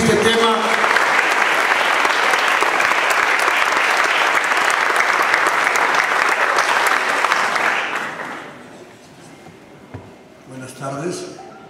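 Loud audience applause welcomes a speaker at a tribute event, strong and sustained for about eight seconds before fading, followed by faint shuffling and a few quiet voices.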